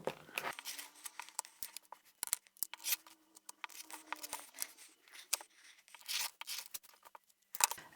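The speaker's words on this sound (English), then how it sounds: "I'm going to square up all the fabric, or just trim the edges" Scissors trim the edges of sewn reclaimed fabric for a pouch, a close series of crisp snipping cuts in irregular bursts, with rustling cloth between them and no speech.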